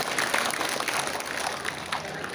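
An audience applauds after a principal's Republic Day speech at a school, with steady moderate clapping that runs throughout and sounds somewhat muffled and distant.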